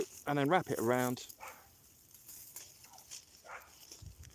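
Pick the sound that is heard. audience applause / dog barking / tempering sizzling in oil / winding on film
dog barking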